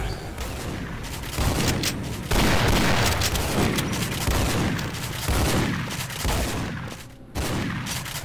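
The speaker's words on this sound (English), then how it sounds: "We got big ass mortars." Mortar explosions in Duke Nukem 3D, a series of heavy booms and blasts landing one after another at irregular intervals, loud and dense, with no talking.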